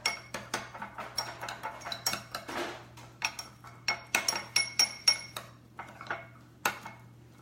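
A utensil clinks and scrapes steadily against a bowl while Dijon mustard is stirred for an Easter lamb, a quick run of light, close taps and rattles with no talking.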